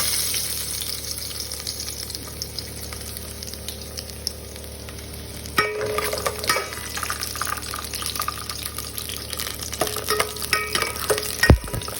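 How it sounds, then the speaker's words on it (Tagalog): Garlic frying in hot oil for ginisang halaan, a faint hiss at first, then louder crackling sizzle and spoon scrapes from about midway, ending in a sharp clatter, with no voices. "Lulutuin natin yung bawang guys hanggang sa maging light brown."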